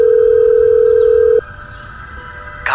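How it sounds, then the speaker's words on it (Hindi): Telephone tone in a Hindi audio drama as a call is placed: a steady loud tone holds for over a second, cuts off to quiet hiss, then a brief burst of noise follows at the end. "अजू को कॉल करती हूँ।"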